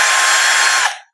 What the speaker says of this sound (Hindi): स्टिक को इस साइड पर करने पर ड्रिल मशीन फॉरवर्ड साइड में चलती है